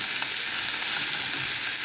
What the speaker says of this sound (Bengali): ধনে পাতা দিয়ে একটু নাড়াচাড়া করা হবে